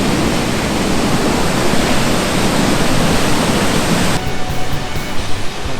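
A huge Thai waterfall near Bangkok roars loudly and close, a dense, unbroken rush of falling water that thins slightly over the last second or so, with no voices.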